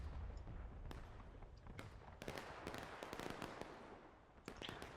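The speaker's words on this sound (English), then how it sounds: "They got about 5-6 guns going off right now on this side." Civil War artillery in Ghosts of Antietam, with several guns on one side of the battlefield going off in scattered booms and cracks over rumbling battle noise, some near and some distant, and no talking.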